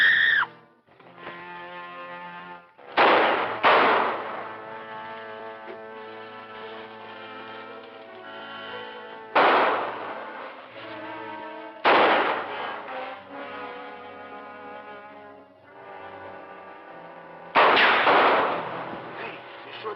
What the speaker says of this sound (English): This guy's shooting blanks, too?